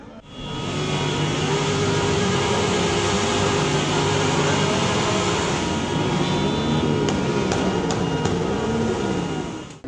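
Motorcycles ridden by bikers at the tail of a festive city-day parade rumble and roar continuously, with loud engine drone and revving swells sustained throughout, no talk over them.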